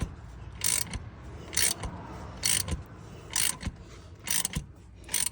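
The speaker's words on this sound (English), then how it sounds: "As I turn my ratchet, that harmonic balancer is coming out" A ratchet turning to pull the harmonic balancer off a 2015-2024 Chevrolet Silverado engine, with bursts of rapid clicking repeating about every second, close and fairly loud.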